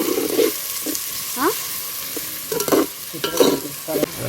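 Chopped onion stirred into browning garlic in a pan over a wood-fired village stove, a steady close sizzle broken by scraping stirs and spoon clatter, with no talk.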